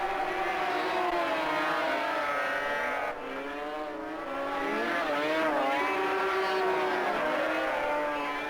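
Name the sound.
race vehicles opening throttles, Kawasaki Winter Classic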